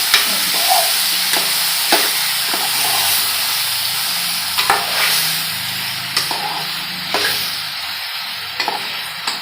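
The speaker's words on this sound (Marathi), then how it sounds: "चिकन चांगलं परतून घेऊया" Chicken frying in garam masala and stirred in the pan: a constant loud sizzle broken by repeated scraping and clanking strokes of the spoon every second or so, with no voices.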